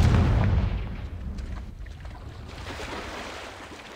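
A Confringo fire blast spell explodes in Hogwarts Legacy with a loud, deep booming burst that rolls and fades into a long rumbling tail, with no talking.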